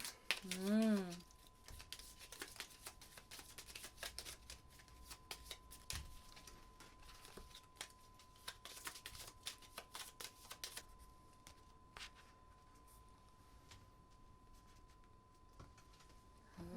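Playing cards are shuffled in repeated riffling bursts, a dense crisp flutter of clicks lasting several seconds, close up, with a brief voice at the start, during a Pandemic Legacy board game.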